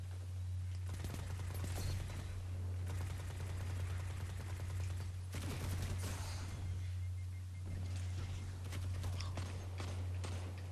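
Bursts of rapid automatic gunfire from the video game Destiny 2 come in two or three dense volleys over a steady low hum, with clattering, step-like clicks between them and no talk.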